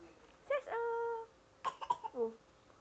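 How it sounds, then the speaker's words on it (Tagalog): A young child coughs several times in short, close bursts, with a brief whimpering or crying tone mixed in and a quiet pause between the two groups of coughs. "Ubo, ubo, ubo, ubo."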